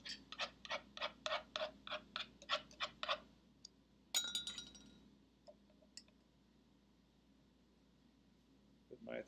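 A metal thermometer clinks repeatedly against a pot of hot starch paste just taken off the heat, a quick run of about ten bright taps followed by a scrape and a few scattered knocks.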